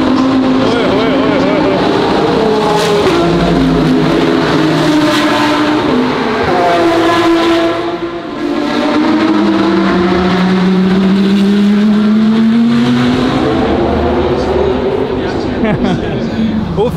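Formula 1 race car engines at the Singapore Grand Prix, a loud, continuous high-pitched scream with rising and falling pitch sweeps as cars pass nearby, under crowd noise and someone talking.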